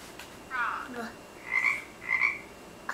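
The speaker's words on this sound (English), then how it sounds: "Frog." A frog croaks in three or four short, raspy calls spaced about half a second apart, fairly faint against a quiet background with no one talking.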